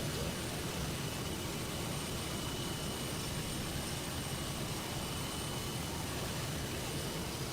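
An airplane engine in flight in a flight simulator game, an even, unbroken drone and rush of noise, fairly quiet and steady throughout with no other sounds.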